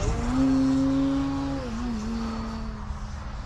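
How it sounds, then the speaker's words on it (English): Radio-controlled SKYWING 67-inch ARS 300 airplane with a DualSky electric motor flying overhead, a loud steady whining tone that dips slightly in pitch as it passes, alone without talk. "Plenty of power from the DualSky motor."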